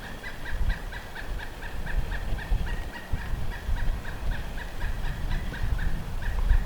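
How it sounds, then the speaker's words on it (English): Out on a mountain hike after a snowstorm, a bird gives a long run of fast, rhythmic gobbling calls with no gaps, fairly close and clear over a low outdoor rumble. "I have no idea what kind of bird that is."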